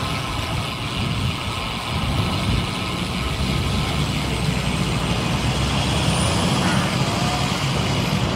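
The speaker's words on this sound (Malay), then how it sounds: "Lori." A truck (lorry) passing on a road through old Pekan Salak town, a broad continuous engine and road roar that swells slightly as it goes by, steady and fairly close, with no talk.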